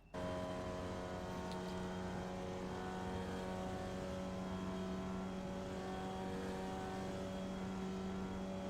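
Formula Vee race car in the iRacing simulator at Summit Point, a steady buzzing engine drone holding a fairly constant pitch throughout, close and alone with no talk.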